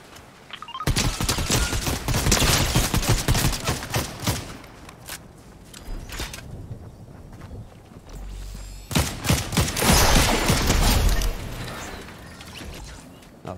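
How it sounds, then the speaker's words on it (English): In a Fortnite match, gunfire crackles in two long, loud bursts of rapid shots separated by a quieter gap, with dense overlapping cracks and booms throughout. "Who's shooting at me?"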